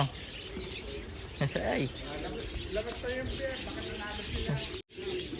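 Racing pigeons returning to their loft after a 260 km race, with chirps, faint coos and wing flutters close by. Someone talks throughout over the birds, and the sound cuts out briefly near the end.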